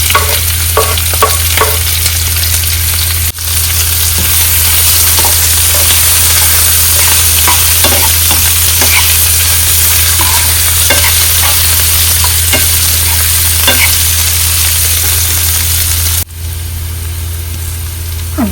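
Onions and green chillies fry in a pan, a loud steady sizzle with a low constant hum beneath, punctuated by repeated scraping taps of a spatula stirring close by.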